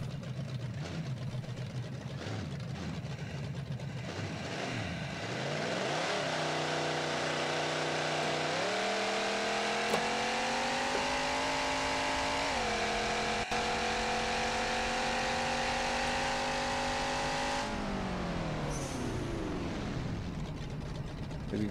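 A drag car engine in the BeamNG racing game idles roughly, then revs up and holds a loud sustained whine before dropping back, with no talking over it.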